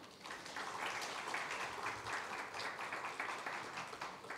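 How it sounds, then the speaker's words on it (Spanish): Applause after a talk at a women's mental health panel, a faint, continuous wash of many hands clapping, steady and distant for several seconds. "nuevamente démosle un fuerte aplauso, por favor"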